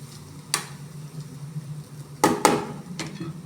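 Rice being stirred in a cooking pot, heard as a soft background hum broken by a few sharp scraping clinks of the spoon against the pot, two close together near the end.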